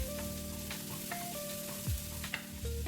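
Spiced chicken roll filling stirred in a hot pan with garam masala, a steady frying sizzle under scattered spoon scrapes and a low background hum, no talking.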